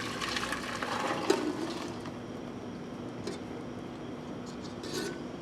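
Homemade vanilla ice cream mixture poured back into a container, a steady quiet liquid rush with a soft clunk near the start, continuous and low in level with no talking.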